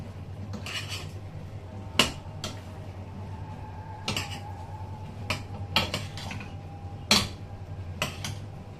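A spoon scrapes and clanks against a cooking pot while okra is stirred, giving irregular metallic knocks every second or two over a steady low kitchen hum.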